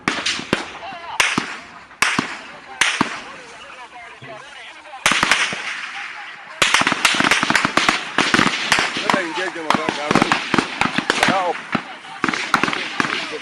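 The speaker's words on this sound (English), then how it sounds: "Those who are at the high ground, please stop firing." Gunfire from high ground sounds as sharp, loud cracks, at first in spaced shots and then in dense rapid bursts, with voices audible between them.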